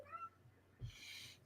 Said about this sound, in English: I hear you, tiny kitten.